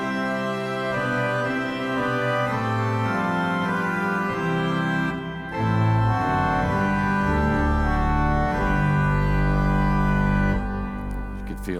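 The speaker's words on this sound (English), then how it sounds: "Grand jeu, or grand, I think it is." Yamaha Genos keyboard playing its Grand jeu organ stop through a floor subwoofer: a full, loud pipe-organ chord progression with heavy bass, sustained chords shifting every second or so, no voices.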